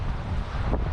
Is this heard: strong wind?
yes